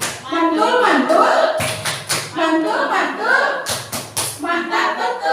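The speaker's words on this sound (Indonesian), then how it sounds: "Tepuk tangan buat kita semua" A group of teachers claps together in short rhythmic bursts at a training session, the sharp hand claps mixed under an instructor's voice talking over them.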